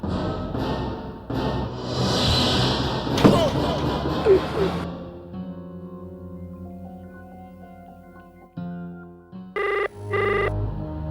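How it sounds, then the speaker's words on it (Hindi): A telephone rings in short repeated bursts amid background noise and a few thumps, with speech-like sounds and music-like tones following. "इतनी रात गए किसका फोन हो?"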